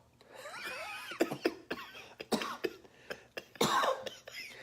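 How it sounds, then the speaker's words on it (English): A man coughs repeatedly in a string of harsh, close bursts with throat clearing in between, and other voices can be heard alongside. "How you like that cough, guy?"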